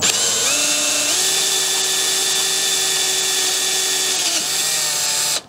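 A small imperial drill bit, about 0.116 inch, bores into a bicycle head tube with a loud, steady power-drill whine that steps in pitch a couple of times before cutting off abruptly at the end.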